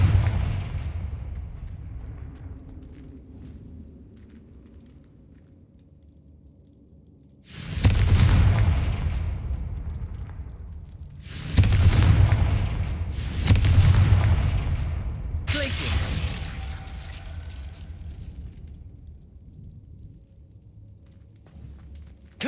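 Fire-spell explosions in the Hogwarts Legacy video game: after a low rumbling lull, four heavy booming blasts burst out in quick succession, each with a sharp attack and decaying roar, loud and close.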